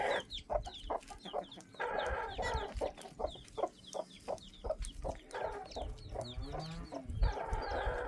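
Chickens cluck and fuss close by, with high, thin peeps from winter chicks scattered among the hen's repeated calls.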